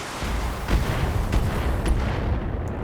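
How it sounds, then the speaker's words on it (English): Missile impacts on a mech in the video game Battletech, a loud barrage of booming hits over a continuous rumbling roar, with a few sharper blasts standing out. "Took a couple of missile hits."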